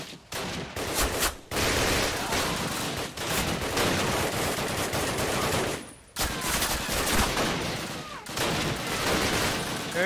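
Video game gunfire involving a Kar98 rifle comes as thick, loud stretches of shooting separated by a few abrupt gaps, close and intense throughout.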